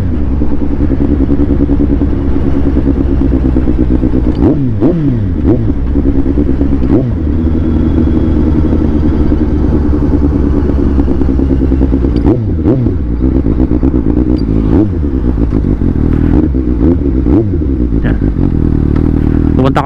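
A Suzuki GSX 750 motorcycle with an SC Project exhaust runs loudly and steadily throughout, with repeated revving surges and some rattling clatter.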